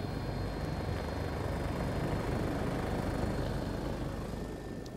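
A helicopter flight to Lundy Island is a steady, dense rotor and engine drone that runs unbroken and fairly loud throughout, easing off slightly at the very end.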